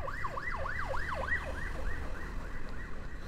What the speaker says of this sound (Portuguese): Vou esperar passar essa ambulância.